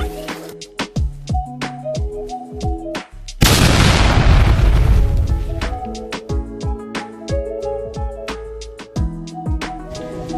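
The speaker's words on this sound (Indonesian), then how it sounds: "Karena cok sambung tadi udah sampai meledak" An electrical extension socket bursts with a sudden loud bang that decays into a long roaring rush, cutting across music playing indoors.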